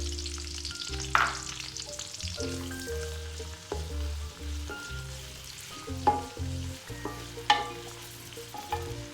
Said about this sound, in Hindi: प्याज को हम पकने देंगे।